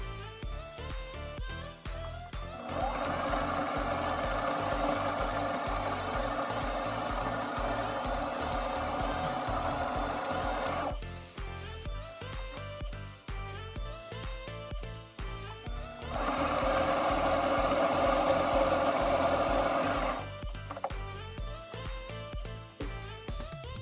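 A sewing machine stitching doubled hair wefts for a wig whirs in two long, steady bursts of rapid mechanical buzzing, separated by quieter stretches of clicking and handling.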